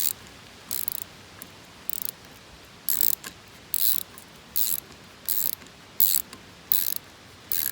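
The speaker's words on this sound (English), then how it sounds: "I'm gonna get that started a little bit and then get on it with the ratchet." A ratchet tightens a Moto Manufacturing Mirrorloks mirror mount in close, even strokes of bright clicking, about a dozen short bursts with brief pauses between them.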